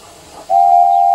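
A steam locomotive whistle in the Trainz railway simulator, a single loud sustained tone that starts abruptly after a quiet rumble and holds steadily to the end.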